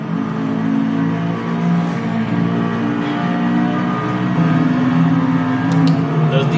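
Race car engines from Cadillac DPI prototypes and other Le Mans 24-hour class cars in the Automobilista 2 sim, a steady layered drone of several engines running continuously at even loudness with no pauses.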